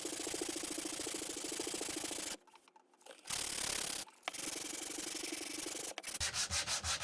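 Wood being sanded by hand with sandpaper at right angles to the grain, a loud rhythmic rasping scrape in long strokes broken by brief pauses, ending in a quicker run of short strokes.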